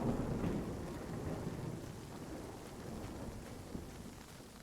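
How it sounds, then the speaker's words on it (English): Steady rain falls with a soft hiss and patter, and a low rumble of thunder fades at the start; no voices. "This is the rain."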